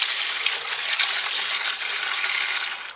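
Water poured into SBR bonding mix in a bucket, a steady broadband splashing rush that runs continuously for about three seconds before tapering off at the end, close and fairly loud with no talking.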